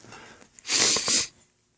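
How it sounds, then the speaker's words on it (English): A single short breathy nasal burst, close and fairly loud, like a sniffle or snort, then quiet. "Excuse my sniffles, I just came back from the cold."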